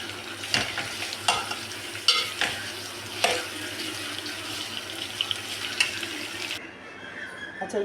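Finely chopped onions frying in a pot, a steady crackling hiss broken by sharp clinks and scrapes of stirring, close and moderately loud, with the sizzle briefly dropping away near the end.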